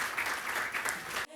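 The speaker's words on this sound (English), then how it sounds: "Can we give a clap to the panelists?" Audience applause for panelists at a zero-tolerance FGM event, a brief burst of steady clapping from a moderate crowd that cuts off abruptly.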